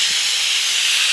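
A pressure cooker vents steam in a loud, unbroken hiss, close by and steady for the whole moment, in a kitchen where carrot halwa is being made and milk is boiling.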